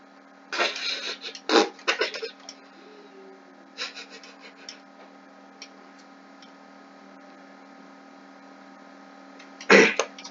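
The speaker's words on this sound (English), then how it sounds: "My gosh, that's a big sneezing fit." A sudden burst of loud sneezes, several sharp explosive bursts in quick succession, followed by fainter breathy sounds and a final strong sneeze near the end, heard close and alone.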